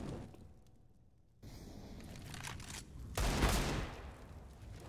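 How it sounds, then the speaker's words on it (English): Rapid gunfire in a CS:GO esports match on Mirage, with Desert Eagle pistol shots among the bursts, loud and dense with a sharp swell of shots partway through. "This time Apex, beautiful deagle shots"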